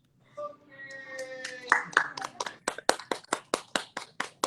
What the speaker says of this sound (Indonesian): Di sini semua tepuk tangan.